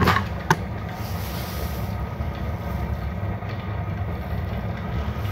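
A homemade waste oil burner stove roaring under a heavy oil flow, a steady, loud, low rumbling roar that runs continuously for several seconds after one sharp click near the start.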